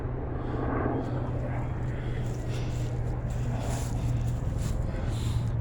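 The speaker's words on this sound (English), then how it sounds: "Got a helicopter coming and landed over there." A helicopter drones steadily at a distance, a continuous low engine hum with faint rotor texture over outdoor ambience in an old cemetery.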